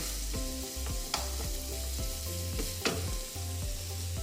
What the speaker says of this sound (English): The sausage is starting to brown up.